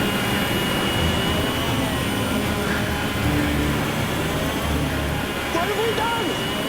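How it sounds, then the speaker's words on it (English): An aircraft propeller engine overspeeding, heard as a loud, continuous droning roar with a steady mechanical hum and whine underneath, unbroken for several seconds. "Officer Wagstaff notices the propellers are rotating too fast."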